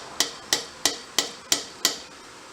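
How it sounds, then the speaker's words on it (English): A rubber mallet taps on a car part during reassembly of a Honda DC5, six sharp, evenly spaced knocks about a third of a second apart, close and clear over a quiet background, without any talk. "Obviously be careful, use a rubber mallet."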